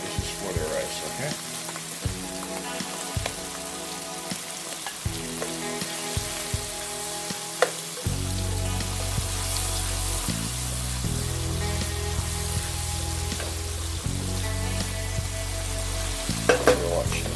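A pork chop stir fry sizzles hard in a pan, a loud continuous crackling hiss that runs throughout with occasional stirring clatter, and no one speaks over it.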